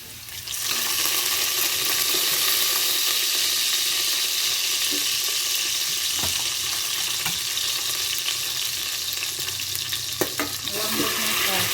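Food frying in a pan on a home stove, a steady loud sizzle and crackle running throughout with a few sharp pops and clinks of a utensil, no talking.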